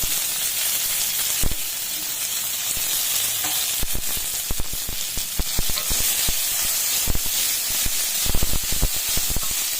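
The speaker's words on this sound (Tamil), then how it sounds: "முடக்கத்தான் கீரையும் போட்டு வதக்கிடலாம்." Balloon vine greens sauté with tamarind in a hot pan, giving a loud, continuous sizzle and hiss with frequent crisp stirring clicks and scrapes close by.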